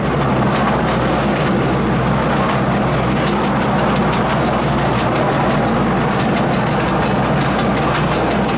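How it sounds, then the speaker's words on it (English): A miniature railway train ride at Pleasurewood Hills theme park, with a constant close rumble of wheels on track and steady clickety-clack running throughout, loud, with no voices. "a wonderful ride there on the miniature railway here at Pleasurewood Hills"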